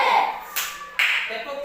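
A primary school class claps in response to a teacher's command, sharp bursts of hand claps, roughly two close together, among children's voices.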